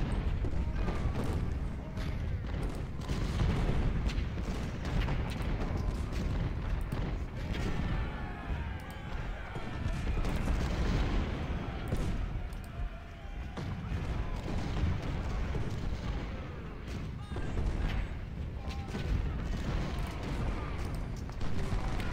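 Massed Civil War artillery fire at Marye's Heights in Ultimate General: Civil War, a dense, continuous rumble of booming cannon and crackling gunfire with a commentator talking over it.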